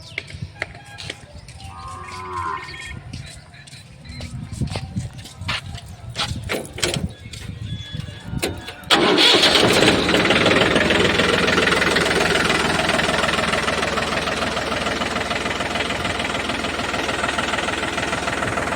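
A Mahindra B 295 tractor's diesel engine starts after scattered mechanical clicks and rattles, then runs at a steady, loud, close idle with a rough, continuous drone.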